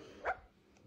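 A single short, faint yip from a young puppy at home, quick and close, followed by quiet room tone.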